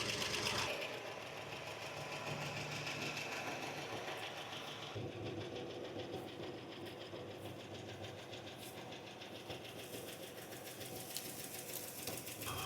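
An engine in a classic car idles with a fast, even ticking and clicking, like a sewing machine, running steadily and quietly throughout with no talk.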